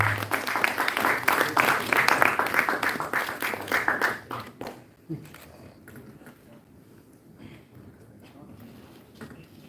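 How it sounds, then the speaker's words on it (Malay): Audience applause at the launch of a documentary on ancient Lembah Bujang: a dense burst of clapping for about four seconds that quickly thins out into scattered claps and quiet room noise. "Berikan tepukan yang gemuruh."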